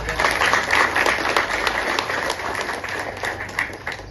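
Audience applause after a student skit at a breastfeeding awareness event, dense sustained clapping from a crowd filling the room throughout, fairly loud and even.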